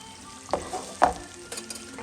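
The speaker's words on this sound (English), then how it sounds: "Now I'm reducing the onions and the shallots" Onions and shallots fry in a pan with a soft, steady sizzle, broken by a couple of gentle stirring knocks close by.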